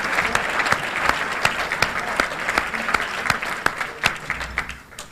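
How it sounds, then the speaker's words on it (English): An audience applauds board members at a business gathering, a broad steady roll of clapping from a large crowd with a few sharper nearby claps standing out, fading slightly at the close. "Would you join me in a round of applause recognizing their hard work on our behalf?"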